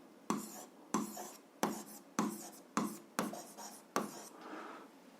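Pen strokes of handwriting during a 7th-grade algebra exercise, a run of about seven short scratchy bursts at a steady rhythm, close and fairly quiet with no talking.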